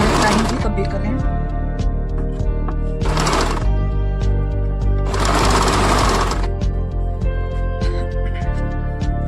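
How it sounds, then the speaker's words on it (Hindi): Sewing machine stitching the lining at the hem of a bellbottom palazzo pant, a rapid continuous mechanical rattle in close bursts with short pauses between runs, under a voice. "सिलाई को कंप्लीट कर रही हूँ"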